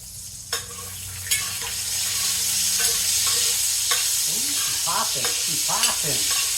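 Sausage fries in a pan for Cajun pastalaya, giving a loud, steady sizzle with a few sharp utensil taps and scraping stirs through the hiss.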